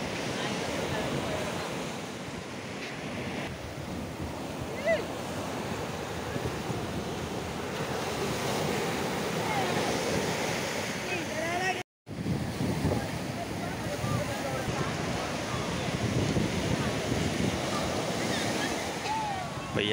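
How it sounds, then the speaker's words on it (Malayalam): Ocean surf rolls in at Payyambalam beach, a continuous roar of breaking waves mixed with gusts of wind buffeting the microphone, with faint voices in the distance and a brief dropout midway. "തിരമാലകളുടെ ആ ഒരു വരവ് നോക്കിയ ആഘോഷം എന്ന് പറയുന്നത് ഇതൊക്കെയാണ് കേട്ടോ."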